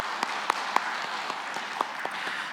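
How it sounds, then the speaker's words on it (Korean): A church congregation's applause for the choir at an early-morning service, a soft, steady patter of many hands with a few sharper individual claps standing out, heard alone. "우리 임마누엘 찬양대를 위해서 감사의 박수 함께 드리도록 하겠습니다"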